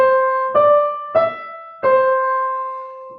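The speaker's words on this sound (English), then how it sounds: "singing the initial Ave Maria theme," Sopranos sing the opening Ave Maria theme of a Renaissance polyphonic piece, a few sustained, clear tones entering one after another with gentle re-attacks, voices alone without accompaniment.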